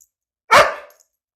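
A dog lets out one sharp, loud bark at close range during an obedience training session, a short burst that fades quickly into silence.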